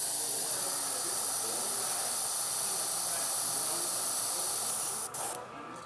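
An airbrush sprays out paint with a continuous, loud airy hiss close up, steady for several seconds before cutting off abruptly near the end.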